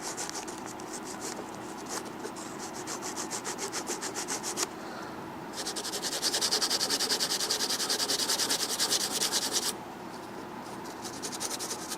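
Light scuff sanding on a Dodge Shelby Charger gauge cluster part makes quick, rhythmic rasping strokes close up, in bursts with brief pauses between, growing a little louder and faster in the middle stretch.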